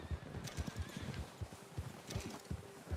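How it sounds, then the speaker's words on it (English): Horse hooves clip-clopping in a steady trotting rhythm while riding in Red Dead Redemption 2, heard fairly close with soft ambient game background and no speech. "Vamos lá andar de cavalo"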